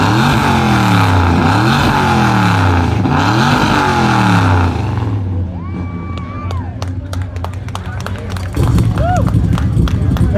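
A 1976 Ford F-250 at a car show revs its engine in three rising-and-falling pulls. Loud cheering, whistles and scattered claps from the crowd follow.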